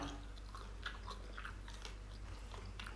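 Someone close by eats tom yum shrimp instant noodles, with faint, quiet bites and chewing in a loose rhythm.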